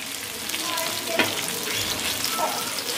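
Rava-coated bombil (Bombay duck) fish fries on a thick tawa with a steady, dense sizzle that holds at an even level throughout, close by and continuous, with a faint clink partway through.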